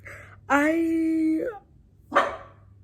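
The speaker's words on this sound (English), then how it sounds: "if my dog starts barking, I'm sorry" A dog gives one drawn-out, whining bark followed after a pause by a second short bark, close and clear, indoors early in the morning.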